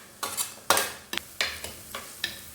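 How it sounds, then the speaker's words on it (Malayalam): Chopped onions and garlic cook in coconut oil in a pan for Kuttanadan-style karimeen mappas. A spatula stirs in a series of sharp scraping strokes, about six or seven in a loose rhythm, over a faint, steady sizzle, close by and with no talking. "അതിലേക്ക് കുറച്ച് വെളിച്ചെണ്ണ അങ്ങോട്ട് ഒഴിച്ച് കൊടുക്കാം. അരിഞ്ഞു വെച്ചിരിക്കുന്ന ഉള്ളി ഇട്ട് കൊടുക്കാം."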